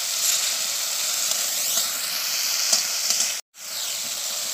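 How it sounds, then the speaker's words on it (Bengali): Ripe jujubes (kul) frying in oil for a chutney give a steady, close sizzle with soft stirring, broken by a short gap near the end before the frying resumes. "আর দেখুন কুলগুলো কিন্তু ভাজা ভাজা হয়ে নরম হয়ে গেছে"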